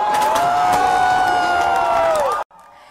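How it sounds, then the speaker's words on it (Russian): A large crowd cheers and applauds a new Ukrainian president at an election celebration, a dense roar of shouts, whistles and clapping that cuts off abruptly near the end. "Крики радости, аплодисменты."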